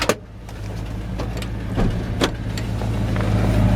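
A 1984 Chevrolet Silverado idles with a driver's-side exhaust leak, giving a steady low engine rumble with faint, fairly regular ticks over it.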